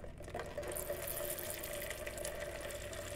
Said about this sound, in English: I'm capturing the fluid in my buckets, actually.